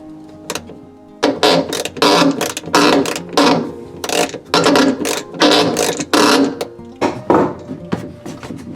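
A screwdriver works a clamp loose from the tub of an LG washing machine under repair, making repeated close, loud ratcheting and scraping bursts with short pauses between them.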